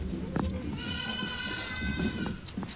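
Goats bleat on a farm, a drawn-out wavering call rising above a busy barn background with shorter bleats and rustling around it, no talk heard.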